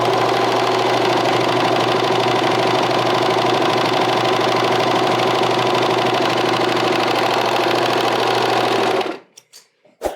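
A serger stitches a seam along knit fabric, its trimming knife working as it runs in one loud, steady, continuous mechanical whir for about nine seconds, then stops, leaving a few small clicks.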